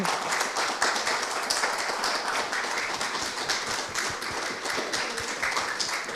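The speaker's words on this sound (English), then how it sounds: "please do give this fantastic foursome the biggest round of applause" Audience applause for a four-piece band at a live album launch in a community church, dense, steady clapping that fills the room evenly and continues without a break.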